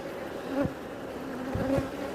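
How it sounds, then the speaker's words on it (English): A dense, steady hum of many honey bees buzzing close by during a hive inspection, droning continuously with a few individual bees zipping past. "There's a lot of bees. This is just crazy."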